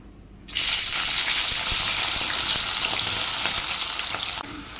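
Jackfruit pieces dropped into hot oil that was already used for mirchi bajji fry with a loud, steady sizzle. It starts abruptly after a brief pause and runs for about four seconds before easing off. No one speaks.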